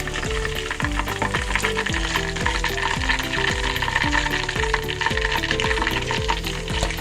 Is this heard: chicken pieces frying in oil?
yes